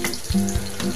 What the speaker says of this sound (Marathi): जिरे घालायचे फोडणीला.